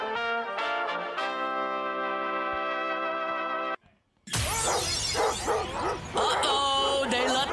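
Dog barking sound effect played on a sports radio broadcast, loud gruff barks bursting in after a sustained tonal jingle and a brief pause.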